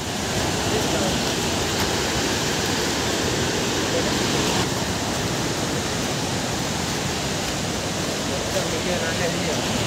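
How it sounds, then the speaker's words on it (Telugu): Kuntala waterfall near Nirmal in Adilabad, Telangana, gives a steady, loud roar of rushing water with no break, close by and filling the whole scene. "ఫ్రెండ్స్ ఇగో ఇదే కుంటాల జలపాతం"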